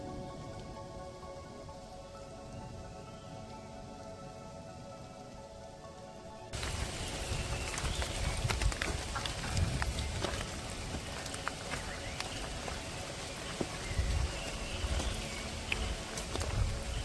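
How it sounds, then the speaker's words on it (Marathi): Light monsoon rain falls at night during a trek toward Bhimashankar, a dense steady patter of drops on nearby surfaces that begins abruptly partway through and continues evenly, close and moderately loud. "पडणारा हलका पाऊस, धुके, हिरवळ यांच्या समीकरणामुळे ट्रेकिंगचा उत्साह अधिकच वाढत चालला होता आमचा."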